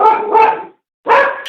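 A great shaggy dog in a storybook recording gives two quick close barks, then a short silence and a third bark, loud and clear with no talk.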